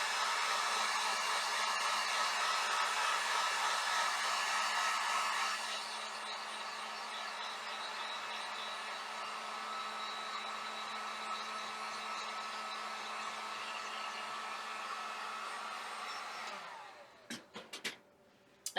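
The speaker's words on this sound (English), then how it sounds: "Again, I'm just going to use my heat gun." A heat gun blows steadily on a Barbie trunk craft, a loud continuous whooshing drone that eases slightly after a few seconds and cuts off near the end, followed by a few small clicks and handling noises.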